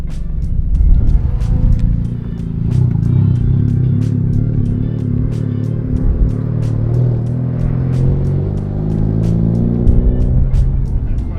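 A race car engine drones steadily on a track with low rumbling harmonics that rise and fall as it revs and shifts through gears, loud and close, with brief clicks on top throughout.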